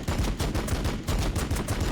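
Rapid bursts of gunfire from units in the Warhammer 40k Battlesector video game, loud and continuous with a fast, rattling rhythm.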